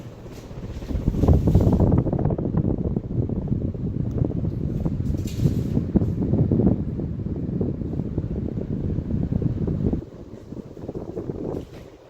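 A Hunter Avignon ceiling fan running on high speed gives a steady, loud whooshing rush of moving air that drops off abruptly near the end, leaving a quieter hum.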